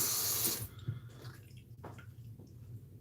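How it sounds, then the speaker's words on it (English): Water rushes loud from a tap for about half a second while a Schick injector razor is rinsed, then gives way to faint drips and wet handling sounds in a quiet room. "Rinse the razor real quick."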